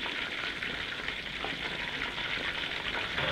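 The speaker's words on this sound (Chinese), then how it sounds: "那个卤鸭子一炸好香啊！" Braised duck fries in hot oil in a wok, giving a steady, close sizzling hiss that carries on evenly without pause and with no speech over it.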